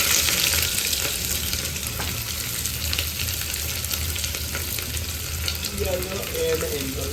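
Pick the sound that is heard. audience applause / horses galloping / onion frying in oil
onion frying in oil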